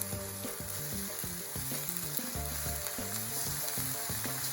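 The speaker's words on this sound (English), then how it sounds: "A gentle stir around." Tuna warming in a hot pan gives a continuous hiss of sizzling and soft stirring, heard beneath prominent background music.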